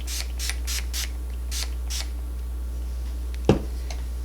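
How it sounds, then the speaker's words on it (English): Makeup setting spray misted from a pump bottle over powder foundation, several short soft hissing puffs in quick succession, close and faint over a steady low hum, followed by a single sharper tap. "So now I'm going to spray this and press it in."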